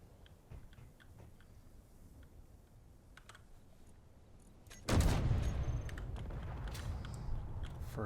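A tank cannon in Space Engineers fires once, a sudden loud boom about midway that decays into a lingering rumble, after quiet mechanical clicks and taps.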